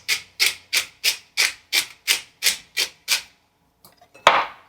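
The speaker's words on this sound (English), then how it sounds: "I like to do the pepper grind." A pepper grinder crushing black pepper over a mac and cheese sauce, nine evenly spaced gritty grinding twists at close range, then a pause and a few small knocks and a final rustle.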